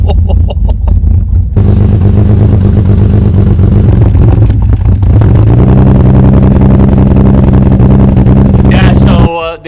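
A Nissan engine runs loud and steady throughout, with a rise in pitch midway as it revs, then cuts off abruptly at the end; people talk over it.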